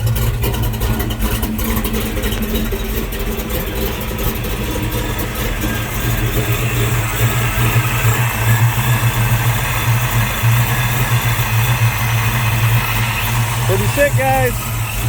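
Ford Mustang engine idling right after a cold start, a steady loud low rumble with a slightly choppy cam pulse running throughout, with a voice partly heard over it.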